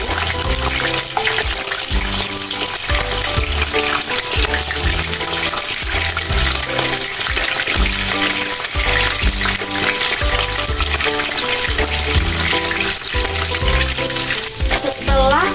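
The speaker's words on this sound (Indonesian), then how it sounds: "Pertama-tama kita goreng tahunya dulu." Continuous loud bubbling and sizzling of tofu deep frying in hot oil, steady throughout with no voices.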